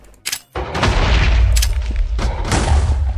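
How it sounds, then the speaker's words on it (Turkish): A classic hand grenade blows up in Minecraft, giving a loud close boom after a brief quiet, with further rumbling blasts following in quick succession. "Bu klasik el bombası şöyle."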